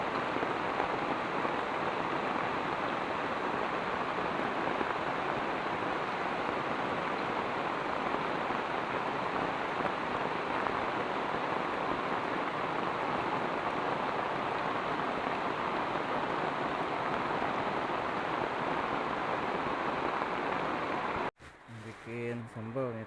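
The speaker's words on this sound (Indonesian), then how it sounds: "Tuh hujan deras kawan-kawan" Heavy rain pours steadily onto a surface in a close, dense hiss that runs unbroken until it cuts off near the end.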